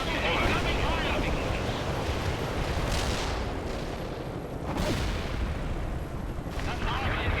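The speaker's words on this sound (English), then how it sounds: "Firing artillery. Incoming fire." Artillery fire in the real-time strategy game World in Conflict: deep, rumbling salvos burst out in several heavy booms, roughly every one to two seconds, over a constant roar of battlefield noise.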